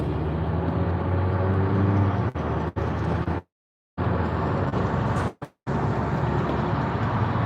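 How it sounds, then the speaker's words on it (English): A truck approaches on the road while the vehicle rides along, a loud continuous low engine and road rumble, twice cut by brief dropouts. "Oops, I got a truck coming up on us."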